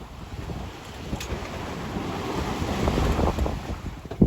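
Sailboat running with a following sea while sailing to Florida: broad wash of waves and hiss under heavy wind noise, swelling gradually and ending in a brief louder splash.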